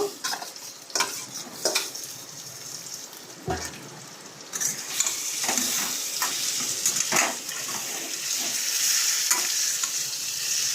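Potatoes and elephant foot yam fry together in hot oil in a pan, with a steady sizzle and repeated scrapes and clinks of a spoon stirring against the metal. The frying is close and continuous, with no talking.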